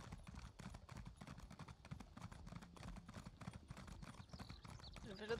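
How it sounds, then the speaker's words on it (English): Horse hooves galloping in The Elder Scrolls Online, a quiet, steady rapid clip-clop rhythm in the game, with faint talk over it. "Now I have my horse."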